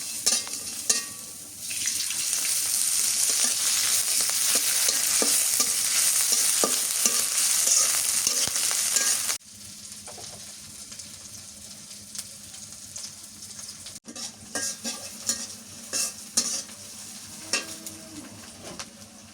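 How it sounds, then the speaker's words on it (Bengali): Yardlong beans and potatoes stir-fry with chili and onion in a village kitchen, a loud close sizzle that drops abruptly partway through, followed by softer frying with scattered stirring clatter and no talk. "এখন বরবটি আর আলু ভাজি করে নেব। মরিচ পেঁয়াজ দিয়ে একটু হালকা করে"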